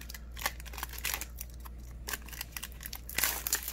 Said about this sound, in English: This pack didn't want to open properly